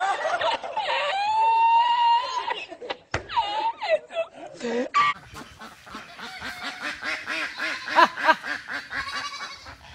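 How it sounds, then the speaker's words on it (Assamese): A duck is chased along a road and gives several loud, nasal quacks and honks in the first few seconds. Excited voices and laughter follow close by. "এয়া হাঁহ খেদি ফুৰিছোঁ ৰাস্তাই ৰাস্তাই"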